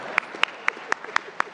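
A small audience at a talk show gives sparse, slow claps, a handful of sharp hand claps spaced evenly about a quarter second apart over a quiet room.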